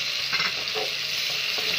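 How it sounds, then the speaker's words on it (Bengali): Ginger, chili and cumin paste poured into hot oil in a pan, a loud, close, continuous sizzle with a few soft stirring strokes over it and no voices. "এই যে আদা লঙ্কা জিরা বাটাটা রেখেছিলেন এটা ঢেলে দেবেন এর মধ্যে"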